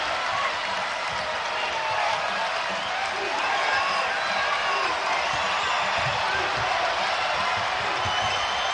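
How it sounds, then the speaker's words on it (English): A basketball arena crowd at Rupp Arena roars and cheers during a college game, a dense, loud wash of voices that holds steady throughout with faint thumps beneath. "That has put a charge into the Rupp Arena crowd."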